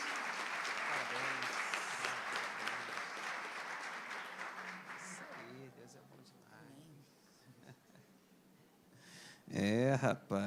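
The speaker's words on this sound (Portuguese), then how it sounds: "Vamos aplaudir Jesus" A church congregation applauding during a worship service with a dense patter of clapping that gradually thins out and fades, with voices speaking under and after it.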